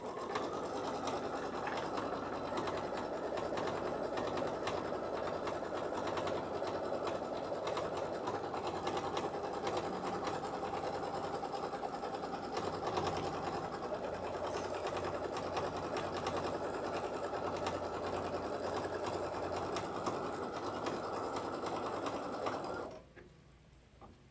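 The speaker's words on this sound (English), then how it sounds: "So I'm gonna go ahead and run that placement stitch." A sewing machine runs a continuous placement stitch on a quilt block, giving a steady, even mechanical whir that holds for over twenty seconds before stopping abruptly near the end, close and alone with no talking.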